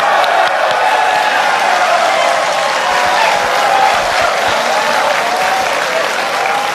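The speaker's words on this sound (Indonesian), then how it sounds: "Tepuk tangan." Sustained loud applause from a large audience at a televised presidential debate, steady and dense throughout, with a faint murmur of the crowd underneath.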